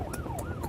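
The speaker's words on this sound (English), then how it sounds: "We're coming on blue lights and sirens, so we're going to be there as quickly as we can." An ambulance siren wails as the vehicle races on blue lights, a loud, close rising-and-falling tone sweeping in quick cycles over road noise.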